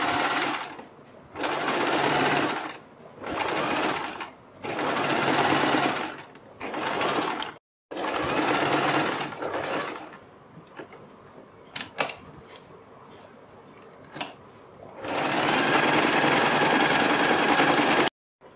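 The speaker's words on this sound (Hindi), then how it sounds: "इसके बाद हम बुकरम के बिल्कुल बराबर में पूरे गले के ऊपर सिलाई लगाएंगे।" Sewing machine stitching around a kurti or suit neckline alongside buckram, running in several loud, steady bursts with short pauses and a few clicks between them, then one long final run.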